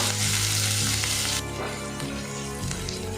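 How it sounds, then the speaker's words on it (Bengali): Onion paste, ground fine on a grinding stone, frying in a pan for a peas curry, a loud steady sizzle that drops to a softer, uneven crackle partway through. "পেঁয়াজটা আমি ভাজা ভাজা করে নেব।"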